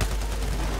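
Battlefield 4 gunfire on Operation Locker comes as a rapid burst of dense, booming shots, loud and close, in one brief stretch with no voices.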